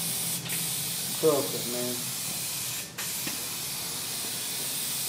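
Spray adhesive hisses onto car headliner fabric in a steady, loud, continuous spray that runs throughout with a slight dip near the end, while someone speaks briefly over it.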